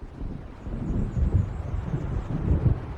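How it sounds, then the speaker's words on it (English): Low rolling thunder from a storm approaching over open water in Alan Wake Remastered, a steady deep rumble swelling in waves with wind noise, no voices. "It seems there's a storm coming."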